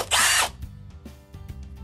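A cordless drill spins a power scrubber brush attachment in a bathroom, a loud high whir for about half a second, then softer knocks and scrubbing sounds as it winds down.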